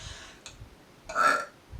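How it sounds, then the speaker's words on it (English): A single loud burp from a woman, a short faint gulp first and then a drawn-out belch up close, with no talk over it. "I just burped."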